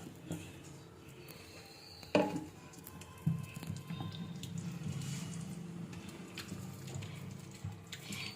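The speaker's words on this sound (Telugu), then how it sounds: "నేను ఇప్పుడు మళ్ళీ సెకండ్ టైం పిండేటప్పుడు వాటర్ పోస్తున్నాను" Water is poured onto soaked tamarind pulp in a bowl during a second squeezing for paste, a soft trickle and splashing under a couple of sharper knocks, faint and close.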